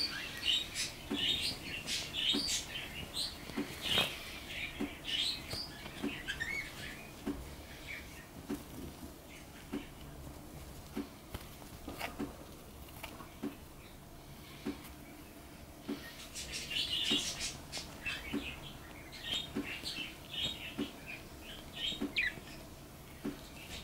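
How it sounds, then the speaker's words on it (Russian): Spangle opaline pet birds with the rainbow gene chatter in quick, high chirps and warbles, busy at first, quieter in the middle, then swelling again, heard close indoors with no talking. "Ой, какие красивые пташки."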